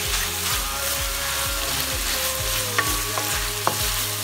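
Pad thai with balachan chili is stirred in a hot pan, a steady loud sizzle with regular scraping strokes roughly every half second and a couple of light metallic clinks, no voices.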